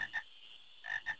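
Two short croaking bursts from a frog in the Final Fantasy IX video game, a pair of quick rasping calls, a pause, then another pair, faint and alone.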